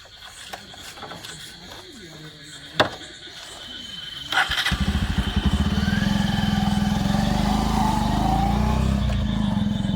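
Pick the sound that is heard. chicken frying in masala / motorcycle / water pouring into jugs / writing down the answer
motorcycle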